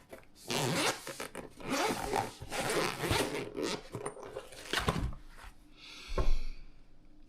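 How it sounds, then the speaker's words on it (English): A zipper on a jump starter's travel case is pulled open in several long rasping strokes, close up, with brief pauses and a soft knock near the end. "where's the zipper?"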